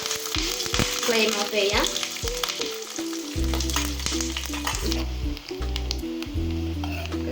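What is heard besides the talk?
curry leaves sizzling in hot oil for beef curry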